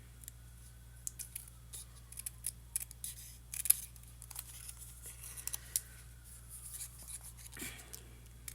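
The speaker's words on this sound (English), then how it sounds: "you don't want to try to cut anymore, you're afraid you're going to cut too much" Scissors snip through paper while making handmade Stampin' Up! cards, producing a quiet, close series of irregular crisp cuts and clicks with no talking.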